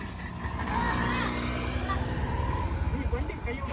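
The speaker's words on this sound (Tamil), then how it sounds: "சீக்கிரம் வாங்க, வேன் வந்துருச்சு." A van pulls up outside, its low engine rumble running steadily beneath people talking nearby.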